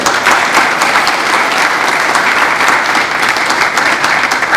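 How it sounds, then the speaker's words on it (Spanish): An audience applauds at the Sixth Dominican Philosophy Congress in Santo Domingo: dense, even clapping from many hands, sustained and close throughout with no talk over it. "Vamos a darle también su aplauso"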